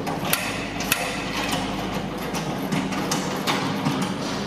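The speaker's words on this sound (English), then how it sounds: "So we just use a 17mm ratchet." A 17mm ratchet loosening a guard bolt on a Chapman paddock topper, sharp metallic clicks at irregular intervals over a steady low mechanical rumble.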